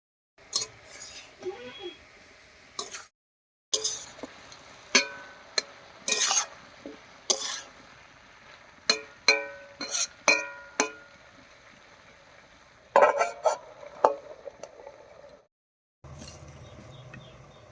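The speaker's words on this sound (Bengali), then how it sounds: "এবারে ঢাকাটা তুলে একটু নাড়িয়ে নেব।" Vegetables in a pan are stirred after the lid comes off, with a spoon scraping and knocking against the metal in irregular close clinks over a soft sizzle, broken by short quiet gaps.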